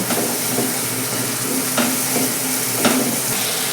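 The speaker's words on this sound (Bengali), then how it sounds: "এবার আমি মশলাটাকে খুব ভালো করে কষিয়ে নেব" Spice paste with Kashmiri chili powder being stir-fried in a pan, a steady close sizzle with a few scraping strokes of the spatula, no voices.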